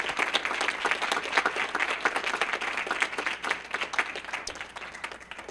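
Audience applause for presenters at a constitution lecture series, a steady round of close, crisp hand clapping from a modest crowd lasting several seconds and tapering slightly toward the end.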